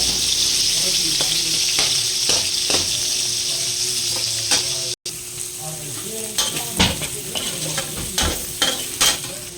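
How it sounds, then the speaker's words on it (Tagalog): Garlic, onion, ginger and pork sizzle and fry in a pan for a jackfruit coconut-milk stew, with steady hissing broken by repeated scraping stirs and utensil clacks, close and loud, while a voice talks faintly beneath. "Gisa ko muna yung bawang sibuyas, luya. Ay ano muna, yung pork muna para mag-brown siya."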